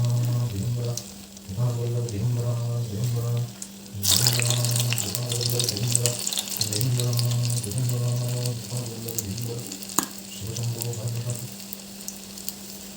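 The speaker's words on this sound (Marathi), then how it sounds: "तेल आपलं गरम झालेलं आहे आणि असे एक एक वडे आपण तळून" Medu vada made from urad dal batter frying one by one in hot oil, a loud continuous sizzle and bubbling with a bright burst of crackle as a fritter drops in, plus faint clinks.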